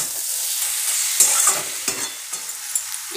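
Frying kochur loti stirred in a hot pan with prawns added, a bright steady sizzle under scraping utensil strokes and a few knocks, close and fairly loud with no voices.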